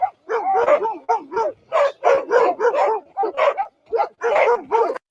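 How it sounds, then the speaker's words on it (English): A dog barks repeatedly outdoors in a steady series of loud, close yips and barks with brief pauses, with no talk over it. "you continue to leave your freaking dog outside"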